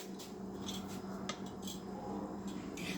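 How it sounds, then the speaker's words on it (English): Whisking cream cheese in a pot for mac and cheese, a soft, continuous scraping and light metallic ticking of the whisk against the pot, quiet and close, with no talking. "we're going to whisk it around until it starts to melt"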